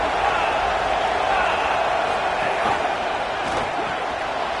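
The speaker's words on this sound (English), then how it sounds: "Here comes this home crowd as the defense tries to get off the field on third down." Home crowd roaring at a Miami football game as the defense tries to get off the field on third down, a steady, loud wash of cheering sustained throughout with no break.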